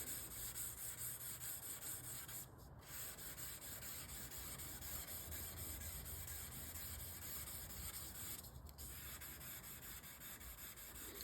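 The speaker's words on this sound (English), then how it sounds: "we're gonna take a little bit of 1500 grit, and we're just gonna start polishing off the high spots" A Damascus steel blade with a differential heat treat being polished by hand with 1500 grit sandpaper, a steady soft rasping rub that runs without a break and is briefly interrupted twice, with no talking.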